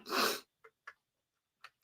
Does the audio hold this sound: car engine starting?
no